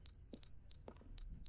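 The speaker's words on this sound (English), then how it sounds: "Interact with the thing beeping. I don't know what's beeping." Electronic beeping device in a video game sounds a series of short, high, steady tones in repeated pairs and groups, clear and close with brief gaps between bursts.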